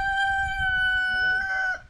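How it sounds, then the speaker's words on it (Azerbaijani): A rooster crows once, loud and close, in a long sustained call that rises and then trails off. Low background noise sits under it. "xoruz nəsli bizdə"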